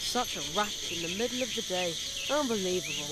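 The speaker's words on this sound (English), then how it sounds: "I think I can hear a cricket chirping in the barrel." A steady, high-pitched cricket chirp from inside a barrel in the video game The Night of the Rabbit runs continuously in the background while someone talks over it.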